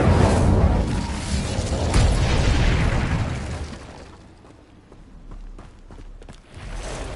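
Fire spell explosions in the wizarding video game Hogwarts Legacy, loud rumbling bursts filling the first few seconds, then fading into quieter scattered pops and thuds before swelling again.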